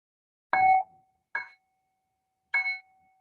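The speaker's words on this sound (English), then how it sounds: "I'm going to ring the bell to just start our meditation session." A meditation bell is struck three times to open a session, each strike a clear bright ring, the first longest and the later two shorter, with the last tone lingering softly in an otherwise quiet room.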